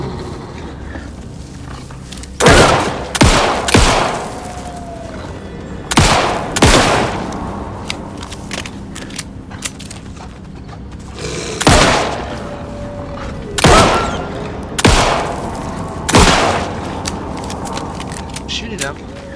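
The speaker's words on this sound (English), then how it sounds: "Shooting him." Repeated gunfire at an enemy in the survival horror game Alan Wake 2, loud separate shots in small clusters spread over about twenty seconds, each followed by a short decay, with low game ambience between them.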